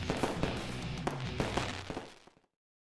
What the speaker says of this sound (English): Fireworks, fireworks, fireworks!